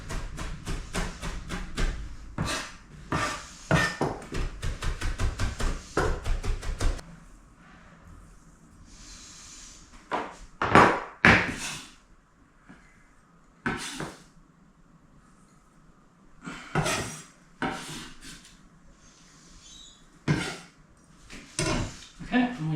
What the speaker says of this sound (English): now we just chop these together